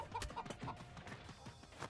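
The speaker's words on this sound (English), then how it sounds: "I hear you, bird." A bird clucks like a chicken in the video game Moving Out, several short soft clucks close together amid quiet game noise.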